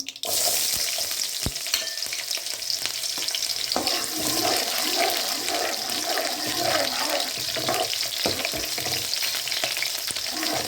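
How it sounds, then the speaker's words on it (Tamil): Shallots and green chillies fry steadily in hot oil for a Tamil dried-fish curry, a loud, continuous crackling sizzle with occasional stirring scrapes and sharp pops, no voices. "வெங்காயம் நல்லா வதங்கி வரட்டும்"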